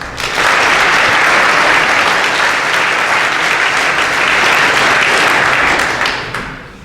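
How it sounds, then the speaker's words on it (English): A school chapel audience gives a loud, sustained round of applause, dense clapping holding steady before tapering off at the end. "Let's give them a round of applause."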